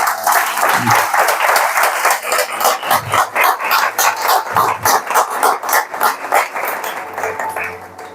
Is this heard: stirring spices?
no